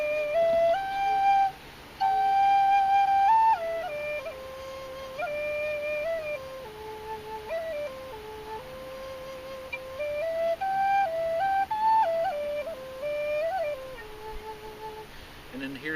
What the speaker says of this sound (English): So here's just the flute by itself.